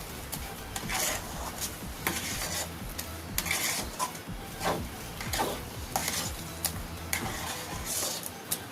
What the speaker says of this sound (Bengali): আবারও ভালো করে নাড়াচাড়া করে আমটা সুজির সাথে মিশিয়ে নেব